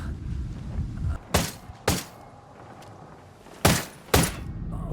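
Sniper rifle fire in Ghost Recon Wildlands rings out as four sharp, loud cracks in two pairs, each with a brief decaying tail, over low rumbling background ambience.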